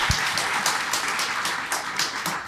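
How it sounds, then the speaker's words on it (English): An audience applauds panelists at a legal panel discussion on prosecution. Several distinct claps ring out close and crisp over a steady bed of clapping that holds for about two seconds. "How about a round of applause for our panelists here?"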